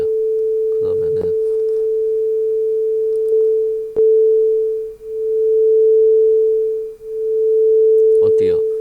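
Two pure sine tones at 440 Hz and 440.5 Hz play together as a steady hum that swells and fades slowly and regularly, about every two seconds, with a few faint clicks near the start and end.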